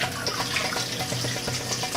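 Tap water pours steadily into a bowl to soak and wash beef brisket for a Moroccan dish, a continuous close rushing splash with no talking.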